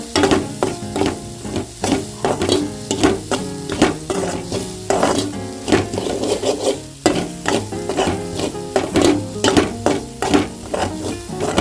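Ingredients for horse gram laddu being fried and stirred in ghee in a pan, a steady sizzle broken by repeated rhythmic scraping strokes of a spoon against the pan, close and continuous without talk.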